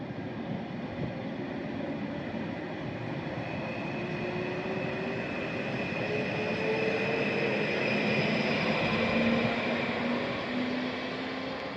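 A train passes at a station in Biała Podlaska, Poland, with a steady rumbling roll and faint drawn-out tonal whines rising and fading, growing slightly louder toward the end.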